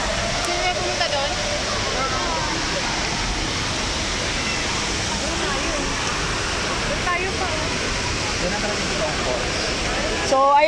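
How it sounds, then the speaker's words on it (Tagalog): A waterfall rushing with a steady, loud broadband roar that fills the whole stretch without a break, with faint voices mixed in. "So, ayan na po yung totoong falls."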